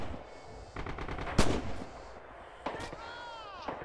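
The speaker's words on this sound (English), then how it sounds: "Machine gun, on my right" Rapid bursts of machine gun fire crackle in Red Orchestra 2 on the wintry Winterwald map, several rattling volleys with one sharp close shot standing out, while a player talks over the battle.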